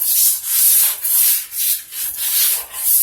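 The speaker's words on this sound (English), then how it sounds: "little by little I'm turning and coming around as I'm working this edge and creating this BullNose" A tile edge being rubbed round into a bullnose gives a steady abrasive scraping in repeated back-and-forth strokes, close and fairly loud with brief dips between passes.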